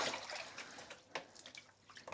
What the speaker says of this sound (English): I'm going to very carefully wash this in some cold tap water.